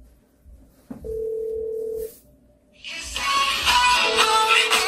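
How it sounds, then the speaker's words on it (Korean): A smartphone rings with an incoming call, a clear steady tone lasting about a second, followed after a pause by a louder, brighter ringtone that keeps playing and fills the rest of the moment. "자 전화가 왔죠"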